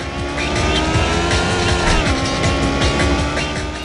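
Engines scream continuously in Need for Speed 3: Hot Pursuit, a retro racing video game, with a loud, steady high-revving drone, shifting pitch and tire noise throughout a short stretch of racing.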